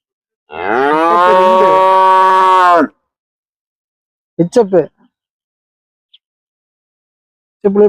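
At a cattle market, a cow gives one long, loud moo lasting over two seconds near the microphone, followed by brief bursts of voices.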